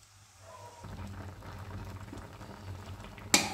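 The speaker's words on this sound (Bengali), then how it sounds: "কুলগুলো ফুটছে।" Jujube pickle simmers in jaggery syrup, giving a steady soft bubbling hiss with a low hum underneath, ending in one sharp click near the close.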